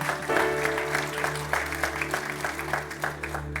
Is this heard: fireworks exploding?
no